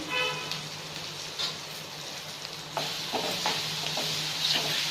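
Tomatoes with turmeric frying in a pan for a mushroom fry, a steady close sizzle broken by several scraping stirs of a utensil, no talking.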